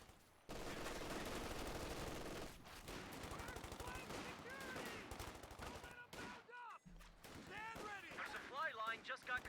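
Gunfire in a Company of Heroes 2 battle, with dense, continuous rifle and machine-gun bursts mixed with booming explosions, loud and sustained.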